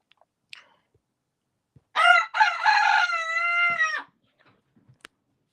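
A rooster crows once in the morning, a single loud, drawn-out call of about two seconds that stands alone amid near silence, with only a few faint clicks before and after.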